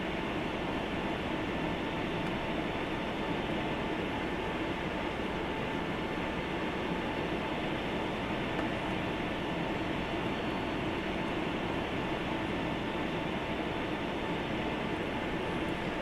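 Engine drone of an Air Greenland Boeing 757-200 in the Prepar3D flight simulator, a loud, steady, unbroken roar with no talking over it.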